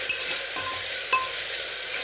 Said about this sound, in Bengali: ওই জন্য পেঁয়াজ রসুনটা ভাজতে বসিয়ে দিয়েছি।